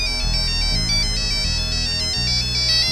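A phone ringtone plays loud and alone, a repeating electronic melody that pulses steadily in short cycles over a low, droning backing.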